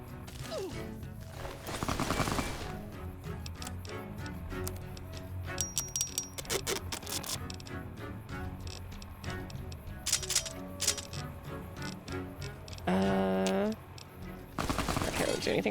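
Gunfire from a weapon in Fallout: New Vegas, bursts of rapid shots spread through a busy game soundscape with music and effects, moderately loud and irregular.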